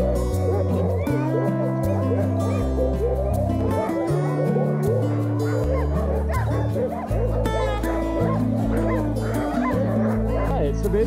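An old sled dog yips, barks and whimpers at close range. The calls come in busy overlapping bursts under loud, constant layered background music.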